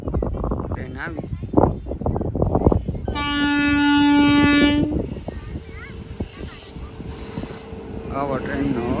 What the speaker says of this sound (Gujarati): ટ્રેન આવી